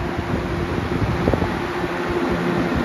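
A 1995 Lakewood 200 20-inch box fan runs on high, giving a steady, close, broadband whoosh of moving air with a faint low hum and no breaks.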